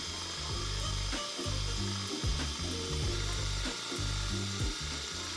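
A cordless power drill with a Forstner bit whirs in short bursts, its motor pitch rising and dipping as the bit grinds and chews into wood, close and steady.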